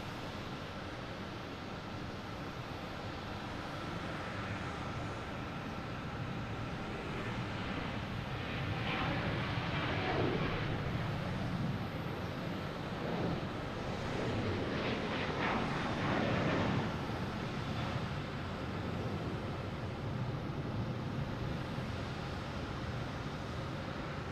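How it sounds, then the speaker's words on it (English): An American Airlines Boeing 737-800 bound for Miami takes off from Boston Logan in the early morning, a distant broad engine roar that swells through the middle and then slowly eases. "Next taking off is American Airlines heading to Miami, 737-800 flight"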